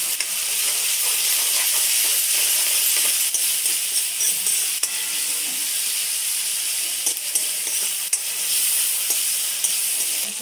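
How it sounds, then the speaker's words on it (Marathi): Chopped tomatoes hit onions already frying in hot oil in a pan for an egg dish, setting off a loud, steady, close sizzle and hiss that runs unbroken, with a few faint clicks from stirring. "आता आपल्याला टॅमॅटो टाकायचा आहे."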